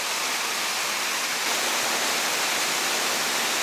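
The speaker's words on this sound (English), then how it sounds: "Another waterfall." Water pours steadily from a waterfall inside a cave, a loud, unbroken wash of white-noise roar with no other sounds on top.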